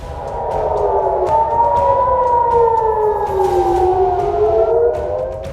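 Air raid warning sirens sound across Tel Aviv, a loud, sustained wail that rises and slowly falls in pitch, with overlapping tones echoing from a distance and no speech.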